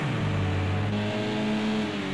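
A touring race car engine idles near the trackside camera at Laguna Seca in the racing video game Project CARS 2, a steady droning hum with a slight shift in pitch partway through.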